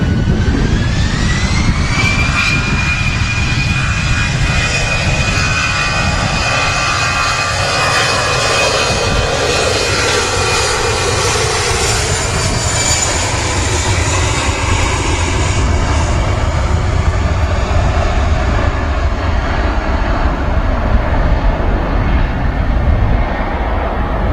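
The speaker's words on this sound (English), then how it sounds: "Some speed on that EasyJet, wasn't there? Like a rocket blasting off 2-3 left at Manchester." An EasyJet jet airliner takes off from runway 23L at Manchester Airport, its engines roaring loud and continuous with a rising whine, heard from the airfield perimeter as the thunderous rumble rolls on without a break.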